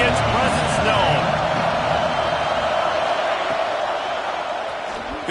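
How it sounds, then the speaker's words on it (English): Stadium crowd noise in a college football video game between Auburn and Texas A&M, a steady loud roar of cheering fans throughout, with a commentator talking over it. "This crowd ready to make its presence known."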